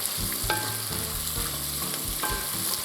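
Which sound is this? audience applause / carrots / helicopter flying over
carrots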